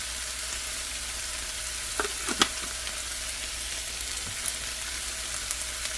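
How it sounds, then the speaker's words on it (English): Corn frying in a pan for corn chowder, a steady soft sizzle with a few light clicks of stirring, fairly quiet and without talk. "Now frying it gives it that cooked, fried taste"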